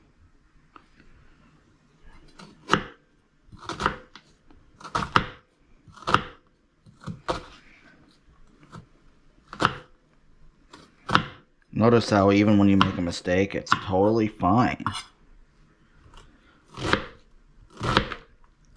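A knife chops three smaller onions on a cutting board for peanut soup in a home kitchen, giving a run of sharp, evenly spaced strikes close up, one longer harsher burst in the middle, and a voice speaking briefly over it.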